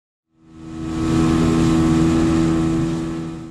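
Motorboat setting out for a remote, wild beach on Socotra, Yemen, its engine droning loud and steady up close, rising at the start, then holding a strong low hum with a bright wash of water spray, no talk.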